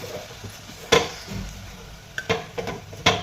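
A spoon stirs soaked moong dal and rice with spring onion greens in a pot over a low gas flame: scattered scraping clicks and knocks at an uneven pace, close up, with no voices.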